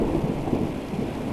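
A thunderstorm rumbles with low, rolling thunder beneath a steady wash of rain, dense and continuous throughout, fairly loud and without voices.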